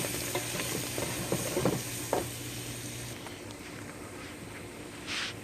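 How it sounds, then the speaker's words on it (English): A flour roux cooking and being stirred in a pan, steady close sizzling hiss with a few scraping stirs near the start and end. "And now I'm gonna add 1/4 of a cup of flour, and basically I'm gonna make a roux."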